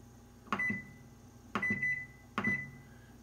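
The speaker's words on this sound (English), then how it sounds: "set the timer for another 10 minutes" A kitchen timer, set while vegan jambalaya simmers, gives three short electronic beeps at roughly one-second intervals, close and fairly quiet, each with a brief tonal ring.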